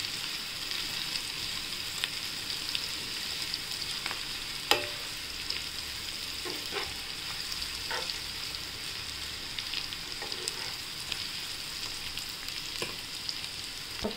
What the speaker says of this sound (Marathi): थोडे 2 मिनटं छान परतून घेऊ त्याला.